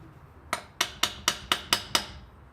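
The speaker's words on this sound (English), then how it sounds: "Just give it a little tappy," Seven sharp metallic taps of a homemade 54 mm socket being knocked onto a Toyota 4Runner wheel hub, evenly spaced, close and fairly loud, each ringing briefly over a quiet background.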